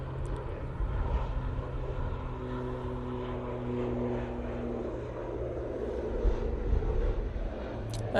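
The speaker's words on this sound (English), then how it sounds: "There goes that Aer Lingus" An Aer Lingus airliner departs Manchester Airport, a steady, distant engine drone holding at moderate level throughout with low tonal hum and no talk.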